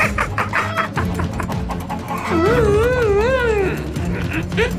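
Farm animals and birds cry out on a farmyard: a loud, wavering dog-like howl rises and falls over a dense background of clucking fowl and other animal calls.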